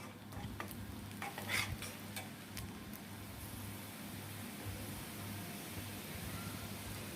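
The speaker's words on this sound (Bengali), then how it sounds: "এখন দিয়ে দিচ্ছি গোটা জিরা পরিমাণ মতো।" Whole cumin seeds hitting hot oil in a pan give a steady, soft sizzle with a few brief crackles early on, heard alone and fairly faint.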